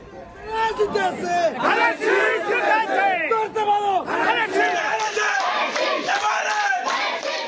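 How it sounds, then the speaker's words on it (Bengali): Party workers and supporters celebrating an election victory, a loud crowd shouting and chanting together in ragged waves of overlapping voices, sustained and close. "বিজয় উল্লাসে মাতোয়ারা কর্মী সমর্থক।"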